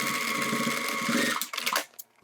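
A sewing machine stitches across a zipper wallet in a steady, close whirring run of fast needle strokes, then slows with a few uneven bursts and stops.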